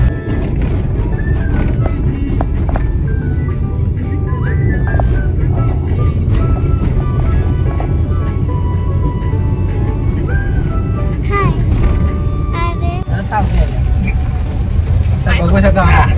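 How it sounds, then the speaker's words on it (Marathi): Road traffic around Nashik, Maharashtra is heard from inside a moving car as a loud, constant rumble of engines and road noise. Occasional horn tones rise above it, and voices talk over the din. "थोडं ट्रॅफिक आहे, ट्रॅफिकमधून बाहेर पडल्यानंतर मी कंटिन्यू करतो."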